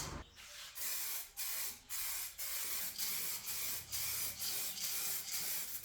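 Spray coating misted onto the engine bay of a VW Golf MK2 GTD, a steady hissing spray broken by short pauses into roughly a dozen close, rhythmic bursts, with no talking.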